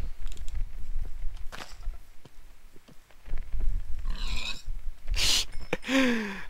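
A Minecraft pig grunts and oinks in short bursts between soft in-game footsteps and clicks, with a few louder squeals near the end and no talking.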